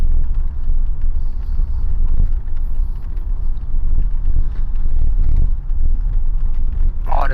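A Mercedes W126 engine runs with a loud, steady low rumble and a faint whine above it, heard close up, with a brief rising tone near the end.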